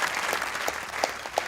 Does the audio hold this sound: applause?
yes